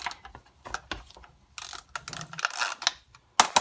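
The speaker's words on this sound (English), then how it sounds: "take your bar nuts loose" A 3/4 socket wrench loosens chainsaw bar nuts, giving several short bursts of close, crisp ratcheting clicks with small metallic handling noises between them, and nobody talks.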